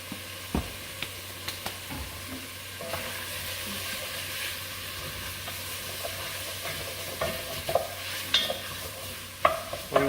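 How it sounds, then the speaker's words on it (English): Bacon beginning to fry and render in a pot for red rice, a soft steady sizzle under intermittent scraping and clinking of a spoon stirring, close but fairly quiet, no voices. "We're going to start to render this bacon down."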